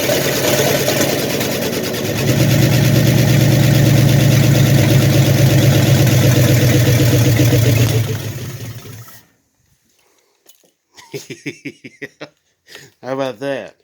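A 1972–93 Dodge D150 pickup truck engine runs at a loud, steady idle on a very cold start, then shuts off into silence before someone speaks.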